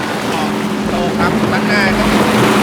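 Jet ski engine running out on the sea near Khao Hua Singto off Hua Hin, Thailand, a steady loud motor drone with wind and water noise, while people talk over it.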